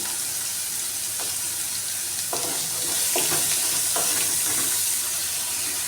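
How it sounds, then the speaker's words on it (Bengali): Carrots and capsicum fry lightly in a pan for Chinese-style pasta, a steady soft sizzle with a few stirring scrapes and clinks along the way, close and moderately quiet. "গাজর আর ক্যাপসিকামটাকে হালকা করে ভেজে নেব"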